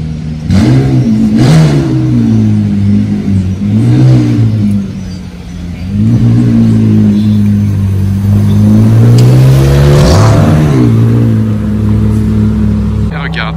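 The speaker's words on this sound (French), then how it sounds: "Il y a la 720S Mansory qui s'en va." A McLaren 720S Mansory sports car revs hard and pulls away on a Monaco street, with loud rising and falling engine notes across several throttle blips and a final surge.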